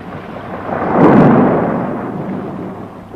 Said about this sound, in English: This storm, she is passing.